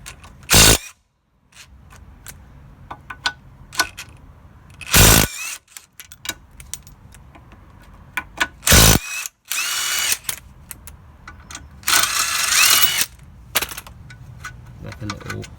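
Power tool undoing a ball joint nut on a Volkswagen Polo 9N during front subframe work: four or five short, loud, whirring bursts separated by quiet clicks and workshop handling noises.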